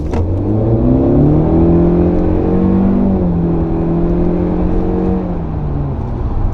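The turbo engine of a 2019 Honda Civic Sport Hatchback pulls hard under acceleration, a steady loud drone rising in pitch through the gears with a brief shift dip, heard from inside the car with no talking.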